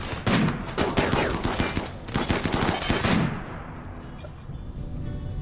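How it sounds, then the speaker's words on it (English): Gunfire in the colony-building video game RimWorld: a close, loud clatter of rapid overlapping shots for about three seconds, then fading into a quieter hiss and rumble. "I heard a gun."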